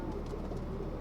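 Soft pigeon cooing, faint and low, half buried in steady background noise.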